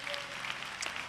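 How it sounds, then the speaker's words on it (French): Clapping from a church congregation, steady and moderately loud, filling the short moment without any voices over it. "applaudissements pour ça"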